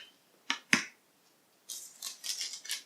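Scissors cut through a sheet of thick paper: two sharp separate snips, a short pause, then a quick run of rapid cutting strokes, close and clear with no talk.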